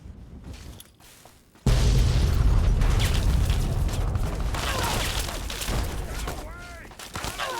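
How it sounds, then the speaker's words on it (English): A grenade detonates in the game Fallout Tale of Two Wastelands, a sudden loud boom that cuts in and rumbles on with a sustained roaring, crackling tail, preceded by quieter game ambience. "We could try some grenades."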